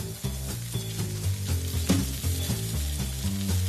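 Rabbit fillets brown in hot oil in a pan with a loud, continuous close sizzle and some stirring, with no voices.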